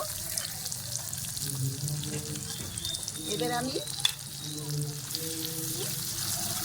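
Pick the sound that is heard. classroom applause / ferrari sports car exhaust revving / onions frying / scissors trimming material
onions frying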